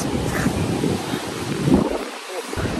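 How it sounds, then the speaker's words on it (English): Strong wind buffets the microphone at Glenelg beach with surf roaring behind, loud and continuous with a brief lull near the end. "How windy it is."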